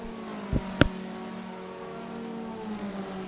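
Peugeot 206 GTi Cup race cars in Assetto Corsa at the Nürburgring run side by side, a steady droning engine hum with sustained tones and a couple of brief sharp knocks near the start.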